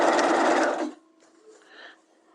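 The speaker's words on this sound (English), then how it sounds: "And I'm going to stitch this on at 1/2 inch." A sewing machine stitches a fly front zipper in a quick close burst of rapid needle clatter lasting under a second, then stops, leaving faint handling noises of fabric and machine parts.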